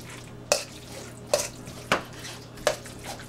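A spoon works through potato salad in a bowl, giving four sharp clinks against the bowl about every 0.7 seconds over a soft, steady background hum. The sounds are close and no one talks.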